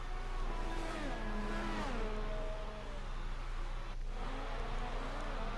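F1 2018 race cars screaming through a chicane, engines whining and shifting pitch as they brake and accelerate, a steady near roar beneath a gravelly noise bed, with no voices.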